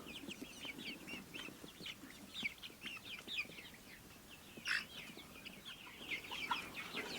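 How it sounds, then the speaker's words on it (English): Young chickens, nearly grown from chicks, cluck and chirp close by in a steady scatter of short calls, with a brief louder squawk partway through and no talking. "they're looking a lot more like chickens than little chicks"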